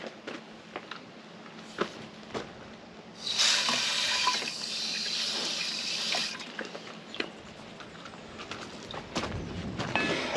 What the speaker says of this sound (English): And get this rinsed off a little bit.